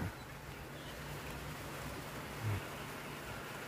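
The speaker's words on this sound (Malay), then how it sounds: "Hujan telah membasahi bumi Melaka." Steady, soft morning rain in Melaka, Malaysia hissing continuously, an even wash of noise with no voices.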